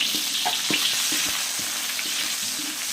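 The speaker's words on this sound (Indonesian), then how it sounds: "Nah, ini udah mulai panas, kita masukkan, kita tumis ya." Shallots, garlic and ginger sautéing in hot oil give a dense, close sizzle, broken by irregular scrapes and clicks of a spatula moving through the pan.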